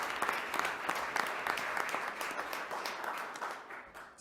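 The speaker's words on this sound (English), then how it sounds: "All right, one more round of applause," An audience at a school board meeting claps for elementary school staff, a brisk burst of many hands that stays lively and close, then thins slightly toward the end.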